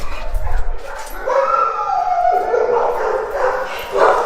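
Dogs bark, yip and whimper inside the kennels at Seminole County Animal Services, a loud, echoing chorus of overlapping calls with people talking faintly in the background.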